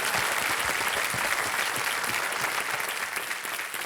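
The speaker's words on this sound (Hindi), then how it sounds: "तालियां बज जाए इनके लिए." A studio audience on the KBC quiz show breaks into a full round of applause, thick continuous clapping at a steady level that tapers only slightly toward the end, with no talk over it.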